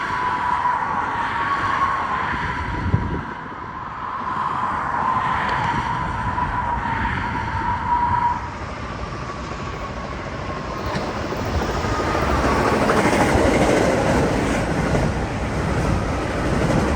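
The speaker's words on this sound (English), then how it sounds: "it was passed by a swift Metra train with the Winnebago and Dash 2 combo again" A Metra passenger train passes swiftly with a Winnebago and Dash 2 locomotive combo, a loud, steady rumble and wheel roar that holds for the whole stretch, with a faint squealing tone early on and a slight swell toward the end.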